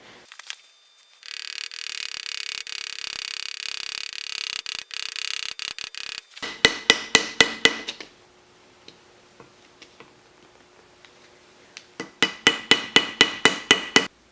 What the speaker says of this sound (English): I'm going to be hitting the back of the nails right here with a ball peen hammer.